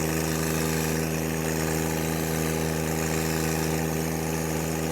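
A steady, loud tractor engine drone with a deep low rumble, holding constant under tilling load without revving up or down.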